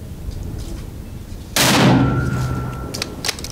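A rifle firing Winchester M80 7.62x51mm ammunition at an outdoor range gives a single loud, sharp crack with a ringing tail, followed by faint clicks.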